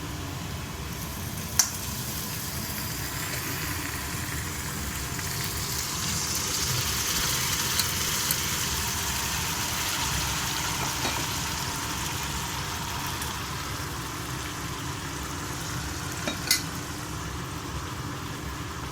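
Mutton keema with tomato is stirred in a pan over a steady, even sizzle, with a few faint clinks of a spoon against the pan.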